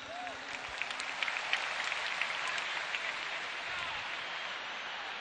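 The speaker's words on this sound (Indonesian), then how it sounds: "Luar biasa, tepuk tangan semuanya." A large stadium audience at a political rally applauds, a dense, even wash of distant clapping that holds at a steady level throughout.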